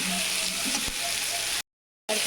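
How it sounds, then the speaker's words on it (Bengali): Potatoes with spices sizzle and crackle steadily while being stirred in a pan, a dense continuous frying hiss up close, cut briefly by a short silence before resuming. "এই যে আলু ভাজা হচ্ছে"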